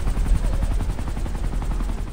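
A helicopter arrives in the video game Ghost Recon Future Soldier: a steady, loud rotor thump and engine rumble mixed with rapid gunfire-like pulses across the whole stretch, without talk.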